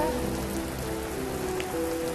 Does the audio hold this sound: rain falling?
yes